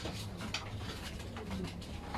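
A racing pigeon coos softly, a few low throaty rolling calls repeated over faint outdoor background noise, fairly close but quiet.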